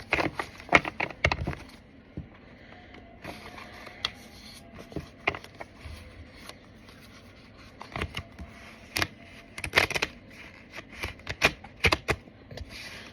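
A deck of cards is shuffled by hand at close range, with bursts of rapid papery riffling and clicking separated by short pauses, repeated several times with no talking.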